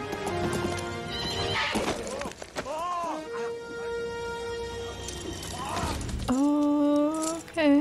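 A horse in a scene from the action film True Lies clops its hooves and gives loud whinnies, with the hoofbeats and neighs heard among other movie sounds and voices.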